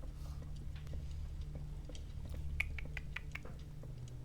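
A cat inside a room makes faint, scattered mews and small clicking sounds over a steady low hum from a game, with no one speaking.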